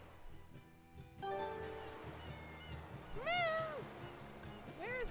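Cats meowing in the video game Tales of Berseria: a few rising-and-falling meows near the middle and end, fairly clear over steady game music and ambient noise.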